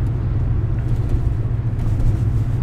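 A car engine drones steadily from inside the moving vehicle while driving home, a continuous low rumble with no change in pace and no talk.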